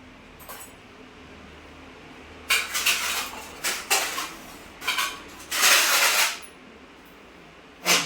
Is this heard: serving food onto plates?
yes